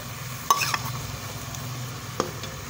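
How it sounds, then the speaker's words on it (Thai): Pounded curry paste being stir-fried into simmering coconut milk in a pan, a soft steady sizzle and bubbling with a couple of sharp utensil scrapes and knocks against the pan, close by. "ตอนนี้กำลังเคี่ยวกะทิจ้ะแล้วเฮากะจะเอาพริกแกงที่แม่ตำลงไปจ้ะ ต้องไปผัดเลยจ้ะ"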